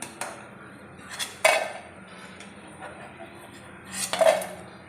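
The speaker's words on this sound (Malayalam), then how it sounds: "ഇത് വറുത്ത് കോരുവാണ്" Deep-fried beef pieces scooped from hot oil for a beef dry fry, with metal spoon clinks against the pan and sizzle in two distinct bursts, close and moderately loud, no talk.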